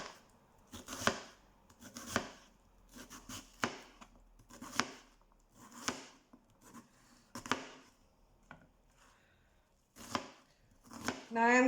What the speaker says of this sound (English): Now I'm just going to roughly chop this up.